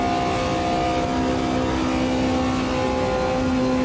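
A race car engine revs hard around Indianapolis in the Automobilista 2 video game, a loud, steady, droning whine holding near its limit with no talk over it.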